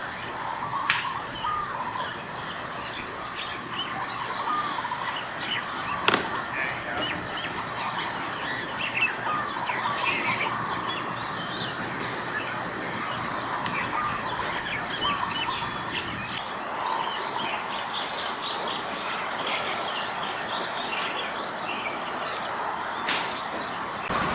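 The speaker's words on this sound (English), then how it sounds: "You can hear the birds in the background." Birds call and chirp steadily in the background over a constant outdoor hum at a US Army recreation area in Hawaii, with scattered short tweets throughout.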